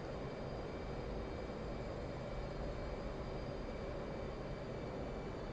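An F/A-18C jet engine in the DCS World flight simulator drones as a steady, unbroken broadband roar with a faint high whine, constant in loudness and heard alone.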